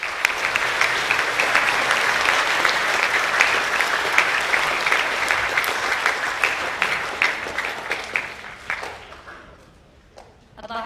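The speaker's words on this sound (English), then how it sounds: "Another big round of applause," A crowd at a school awards assembly applauds steadily for several seconds, the clapping thinning out and fading toward the end.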